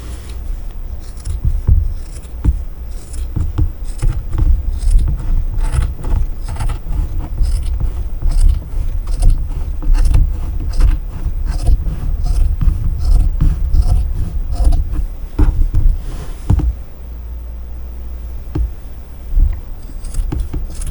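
Scissors cut through ironing board cover fabric with close, steady snipping and rustling that continues almost without pause, easing briefly near the end.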